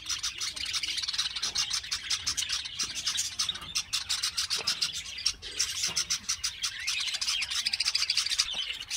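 Pet budgerigars in a cage chirping continuously at close range, a busy stream of rapid high twittering and chattering calls with occasional soft thumps and rustles underneath, no talking.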